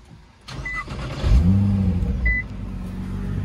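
Nissan GTR R35 with a Valvetronic exhaust starting up: a short starter whir, then the engine catches with a rising bark and settles into a low, fairly quiet idle, with two faint beeps.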